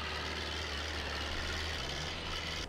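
A slow tractor engine in the Farming Simulator 22 game, modded with Indian tractors, rumbles in a low, steady idle-like drone that holds constant and close, with no talk over it.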